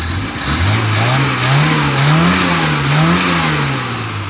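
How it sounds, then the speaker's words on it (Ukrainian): A VAZ-2105 car engine, restarted after a year of sitting idle, revs hard and holds at high RPM, its pitch rising and wavering, loud and close with a continuous droning roar, without stalling or backfiring. "Продемонструвати, що двигун робить і на високих обертах"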